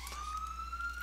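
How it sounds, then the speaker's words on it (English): A police-style emergency siren on a Washington, DC street, a steady high wail rising slightly in pitch over continuous traffic rumble, fairly loud and close, with no voices. "I'm sorry about the siren."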